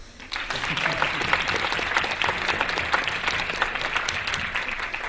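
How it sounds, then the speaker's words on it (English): An audience claps steadily and densely for about five seconds at the Texas Quiz Show finals, a middle school academic competition, the applause starting suddenly and holding at an even, full level. "Now you can clap."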